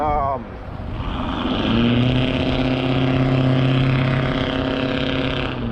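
A car doing burnouts roars in a steady, loud engine drone with a rising rev at the start, holding a sustained high-pitched whine for several seconds.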